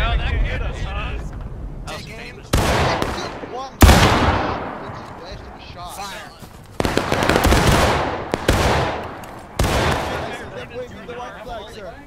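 Cannons fire during a War of Rights game battle, with several loud booming blasts and long rumbling tails spread across the stretch, some near and sharp, while players talk over the action.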